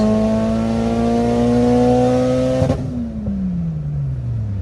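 An AWD tuned car launches hard, its engine revving loud and rising steadily in pitch, then dropping sharply as the gear changes and settling into a lower drone.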